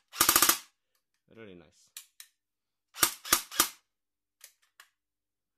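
An airsoft AK rifle with Plum RS AK furniture on an E&L body fires a quick burst of several sharp cracks, followed by a brief spoken remark. Three more close, distinct shots follow, then faint clicks.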